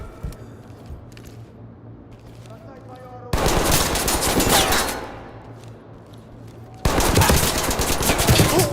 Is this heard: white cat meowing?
no